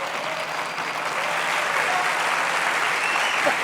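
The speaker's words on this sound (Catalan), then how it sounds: "Us demanaré que, com el primer CEO, que torneu a aplaudir" An audience at an education conference claps steadily and fairly loudly for several seconds, a dense even wash of hands.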